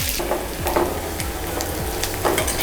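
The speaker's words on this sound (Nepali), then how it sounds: "यसमा चाहिँ हामीले अब ओनियन हालेर यसलाई सटे गर्छौँ है" Onions sauté in hot oil with mustard seeds and curry leaves for an Indian dish, giving a steady close sizzle broken by repeated scraping stirs of a spoon in the pan, with no talking.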